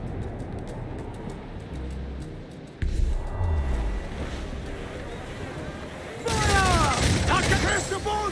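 Ship cannons firing from a sailing vessel in Assassin's Creed 4 Black Flag, heavy booms breaking through wind, creaking and sea wash, followed by a louder burst of clattering impacts and shouting crew voices.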